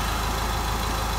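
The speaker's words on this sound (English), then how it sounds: "Note that this is only revving the vehicle on the floor." Car engine revved while stationary on a workshop floor during an air mass sensor check, a steady droning hum with no talk over it.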